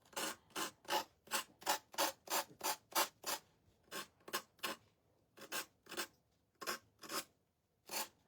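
A sanding block caked with paint rubbed by hand on a small wooden gnome sunflower shelf sitter, about twenty quick rasping strokes in uneven bursts, close and fairly quiet, with brief pauses between groups.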